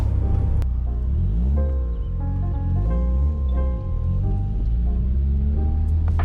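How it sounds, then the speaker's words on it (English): A Peugeot 106 GTI hot hatch with an aftermarket exhaust drives past. Its loud, continuous engine drone rises and falls in pitch as it changes speed. "this car has an aftermarket exhaust fitted and it's quite a bit louder"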